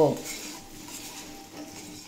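Pre-fried cauliflower florets are stirred with masala in a pan, with scraping spoon and metal clinks over a light sizzle, starting with a sharp clank and continuing as brief, soft stirring.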